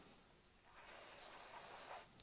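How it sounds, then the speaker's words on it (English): A can of Caig Deoxit cleaner and lubricant sprays in one steady hiss of about a second, fairly close, with no talking, aimed at an evap part on a BMW. "We'll go ahead and spray a little bit."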